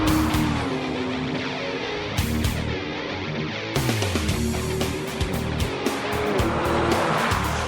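A Porsche 911 driving hard on the race track at Miller Motorsport Park near Salt Lake City, engine revving and shifting while tires squeal through corners, loud and close.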